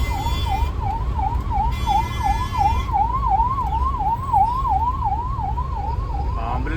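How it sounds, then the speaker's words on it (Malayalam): An ambulance siren on a road near Devanahalli, Karnataka, wails in a fast, steady up-and-down pattern for several seconds over a low rumble of traffic. "ആംബുലൻസ് അല്ലേ?"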